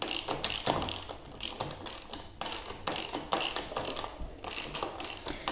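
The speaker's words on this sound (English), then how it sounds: "I'm just going to go ahead and take the nut off." Ratchet socket wrench clicking rapidly while loosening the rear wheel nut on a Victory LX Sport motorcycle, close and crisp, in quick repeated bursts with short pauses and no talking.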